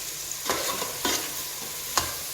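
Diced squash cooking in a saucepan being stirred, soft scraping strokes roughly every half second over a steady low sizzle, close and fairly quiet.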